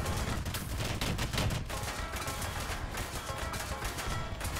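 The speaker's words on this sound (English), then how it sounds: "Look at those L3s just disappear so fast because of the roof-mounted machine gun." Rapid, sustained machine-gun fire from a tank's roof-mounted gun in the War Thunder video game, a dense run of loud, close shots with no pauses and no talking.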